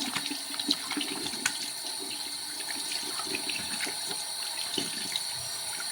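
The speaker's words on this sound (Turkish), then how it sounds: "Elimizi yıkayalım." Water runs steadily from a tap while hands are washed underneath, a soft continuous hiss with faint splashes and no talking.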